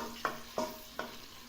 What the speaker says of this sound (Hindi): ऑयल गर्म हो चुका है तो अब हम इसमें लहसुन अदरक का पेस्ट डालेंगे